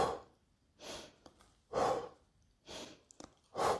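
A person's deep recovery breaths after a set of bicep curls, four or five heavy exhales and sighs in a slow rhythm with quiet inhales between, close and alone.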